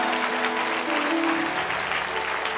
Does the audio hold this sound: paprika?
no